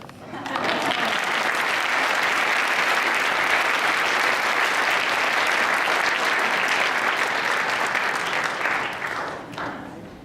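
A gala audience at a food awards ceremony gives a long, loud, even round of applause for Hall of Fame honourees, dense crowd clapping that swells quickly, holds for several seconds, then tapers off.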